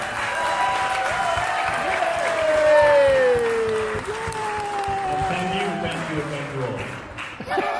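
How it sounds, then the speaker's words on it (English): A round of applause at a first birthday party, steady crowd clapping sustained throughout with voices and chatter over it, fairly close and moderately loud. "let's just give a big round of applause"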